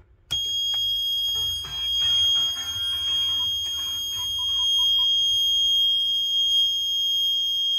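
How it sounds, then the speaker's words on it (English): A campervan's ignition warning buzzer, shrill and electronic, starts suddenly when the ignition is switched on and sounds steadily without pause, with faint clicks and rumbling beneath it. "So you basically get a warning buzzer, and that red light illuminates."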